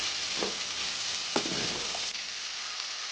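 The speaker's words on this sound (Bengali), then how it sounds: "পেঁয়াজ আমি ভালো করে ভেজে নেবো কিন্তু লাল করব না" Finely chopped onions frying in a pan, a steady close sizzling hiss with a few soft spatula clicks and stirs, no voices.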